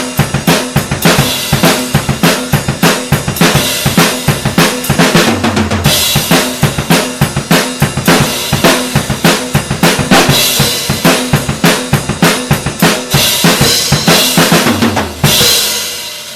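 A drum kit pounds out a fast-paced rock beat from the pre-chorus of a song, with loud, dense, evenly driving hits and cymbal wash carrying on alone without a break.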